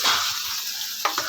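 Pansit bihon noodles stirred in a frying pan, a steady close sizzle with scraping stir strokes and a couple of sharper clanks near the end.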